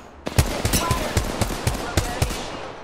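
Rapid gunfire in a squad fight in the Apex Legends video game: about eight sharp, loud shots in an uneven burst, each with a short ringing tail, with no voices over them.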